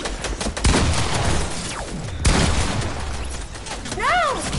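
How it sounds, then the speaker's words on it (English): Rapid, sustained bursts of P90 submachine-gun fire from the Deathrun game, loud and close, with dense overlapping shots and a few heavier booms. "I just heard like the constant fire of P90s."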